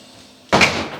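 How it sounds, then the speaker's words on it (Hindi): A door shuts with a single sharp, loud slam in a home kitchen setting, preceded by a quiet room hum and followed by a brief ringing decay. "फिर दरवाजा बंद कर दे"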